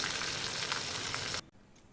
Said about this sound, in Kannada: ಈಗ ಒಗ್ಗರಣೆ ಎಲ್ಲ ತೆಗೆದು ಇದಕ್ಕೆ ಹಾಕ್ಕೊಂಬಿಡೋಣ.